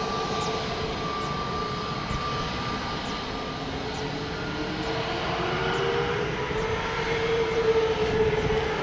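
An airliner, Portugal 430, takes off from runway 02 at Lisbon Airport, its engines a steady broadband roar that builds slightly toward the end, with no talk over it.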